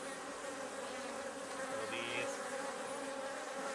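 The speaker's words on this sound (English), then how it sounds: "Here we are at bee yard number 2, and we're going to put our second story onto these hives." Honeybees buzz steadily around hives in a bee yard on abandoned land on Ōmishima, Japan, a dense continuous drone with no talk.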